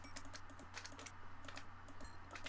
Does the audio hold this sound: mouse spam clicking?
yes